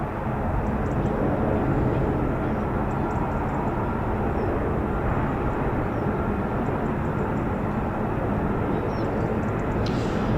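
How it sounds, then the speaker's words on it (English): An F-35B stealth fighter, the short takeoff and vertical landing jet of 207 Squadron at an RAF base, roars past in a loud, steady, broadband rush that holds unbroken for the whole stretch with no voices. "the F-35B, the short takeoff and vertical landing aircraft"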